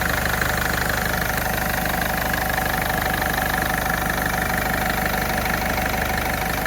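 A 2011 Ford Figo diesel engine idles with a steady, even clatter at close range, continuous and unchanging, with no voices.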